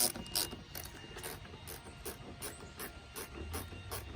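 A ratcheting tool clicks in rapid, even repeated ticks while the headlight aim on a 2005 Chevrolet Silverado is adjusted, close and fairly quiet with no talking.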